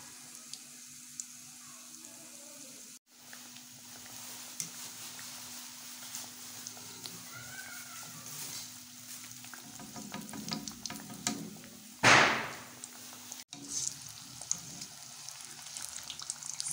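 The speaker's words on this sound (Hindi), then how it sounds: "जब ऑयल हल्का सा गर्म हो जाए तो फिर हम इसमें समोसों को डालेंगे। अब हम समोसों को डालते हैं।" Potato samosas frying in warm oil in a kadai, a steady soft sizzle and bubbling near at hand, with a brief louder rush of splashing oil partway through.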